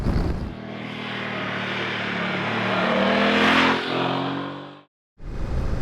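A BMW F900 XR motorcycle engine accelerates hard and loud up close, its rising drone building steadily for about five seconds before cutting off abruptly, then resuming briefly.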